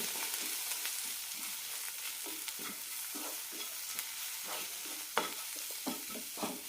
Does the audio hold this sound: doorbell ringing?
no